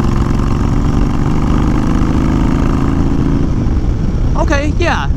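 A 2020 Honda Fury fitted with a Cobra fi2000 tuner cruises in third gear at about 50 with a loud, steady engine drone and wind rush, and a voice briefly speaks near the end.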